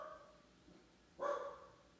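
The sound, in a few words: dog barking at the door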